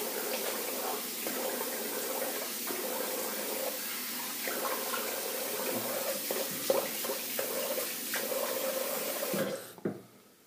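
Tap water runs steadily into a sink while someone rinses their face after shaving, a close, continuous rush with faint splashes that cuts off abruptly near the end.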